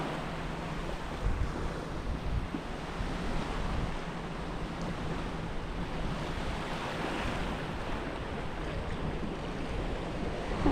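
Ocean surf washes steadily onto Natien Beach on Koh Samui, Thailand, a soft continuous rush of waves with some wind, with no voices.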